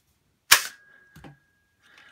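A cheap Poundland toy dart blaster fires with one sharp close snap, followed a moment later by a smaller knock as the dart ricochets off a nearby wall, then near silence.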